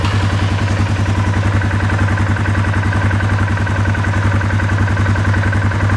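A 2017 Polaris Sportsman 570 EFI ATV engine idles close by with a steady, even putter and a mechanical clatter. It stays constant throughout, with no talk over it.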